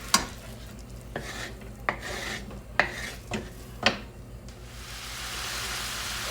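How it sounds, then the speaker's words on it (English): Ground beef and brisket cooking in pans for homemade chili, with a steady low sizzle under a series of sharp scraping and stirring strokes, about six spaced scrapes, then a rising hiss of frying toward the end. "now that we got our ground beef and our brisket cooking in the pan"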